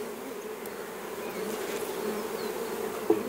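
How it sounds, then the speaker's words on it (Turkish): Honeybees flying around queen-rearing hive boxes outdoors, a steady, close buzzing drone that fills the whole stretch, with a brief knock near the end and no talking. "bu dışarıda uçuşan arılar nasılsa ona girecek."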